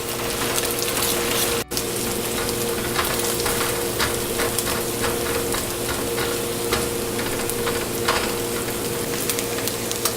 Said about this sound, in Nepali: यसमा म अन्डा राख्छु। र एकैछिन अन्डालाई पकाऊँ।